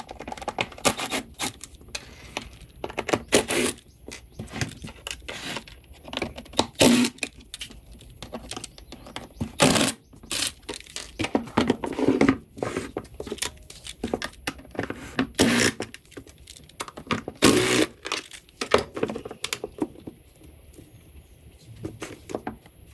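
Small Torx T25 screws being undone on the airbox of a BMW 3 Series E90 with the N52 engine, heard as irregular sharp clicks and ticks from a hand tool, close by, with short pauses between bursts.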